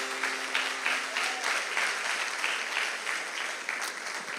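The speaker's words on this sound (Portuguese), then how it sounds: "Vamos aplaudir ao Senhor." A church congregation applauding during a worship service, a moderately distant, steady patter of many hands clapping in a rough pulsing rhythm throughout.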